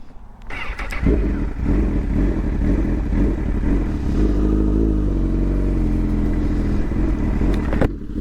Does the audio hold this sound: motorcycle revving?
yes